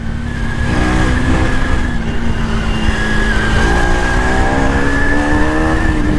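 Hyper Ride 390 and 250 motorcycles racing each other, a loud, steady, close engine drone with rising and falling whine throughout, no talk over it.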